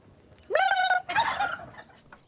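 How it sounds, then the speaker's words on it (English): Domestic turkeys on a smallholding give two loud, close gobbles, one right after the other, the second rougher and trailing away, with no talk. "Gobbling or not, these turkeys will be in the oven come Christmas."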